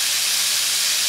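Food sizzles loudly on a grill, a close, steady hiss that fills the whole moment without a break.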